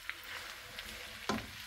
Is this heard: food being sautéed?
yes